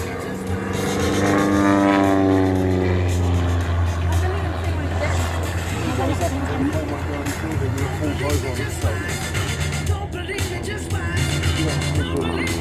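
A vintage warbird's piston engine drones and shifts pitch through stall turns, a spin and a tail slide at an air show, heard under continuous commentary.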